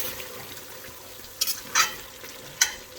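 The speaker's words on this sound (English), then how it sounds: "it's cooking in its own juices. And we're just going to give it a stir just to turn so it's evenly cooked." Chicken cooking in its own juices is stirred in a pan, with a soft steady simmer and a few brief scraping clatters of the spoon against the pan.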